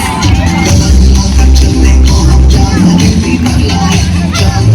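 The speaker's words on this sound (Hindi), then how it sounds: "तालियां बजती रहनी चाहिए दोस्तों, हमारे सभी black diamond directors" A crowd in Talkatora Stadium cheers and claps loudly and continuously over booming music, the clapping dense and steady throughout.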